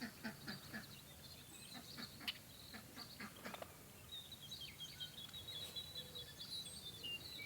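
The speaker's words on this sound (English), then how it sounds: "Those 2 are a pair of ducks." Ducks quack repeatedly at a backyard homestead pond, a pair calling in short irregular bursts at moderate distance, faint bird chirps mixed in and no talking.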